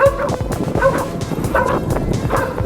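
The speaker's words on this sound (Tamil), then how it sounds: "என்ன சார் நாயெல்லாம் நிறைய இருக்கு போல." Several dogs bark over and over in short, loud, close yaps and woofs with a few whimpering yips between them.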